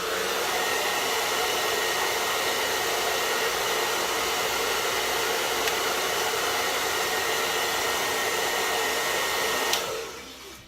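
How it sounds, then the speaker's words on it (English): A blow dryer on medium heat roars as one steady, loud, close hiss for about ten seconds while drying a beard, then cuts off abruptly at the end. "break out the blow dryer"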